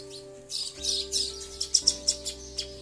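Sparrows chirp in quick bursts, a chick begging its parent for food, a few sharp close tweets repeating over a steady low hum in the background.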